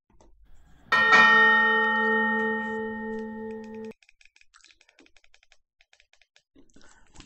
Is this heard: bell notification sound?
yes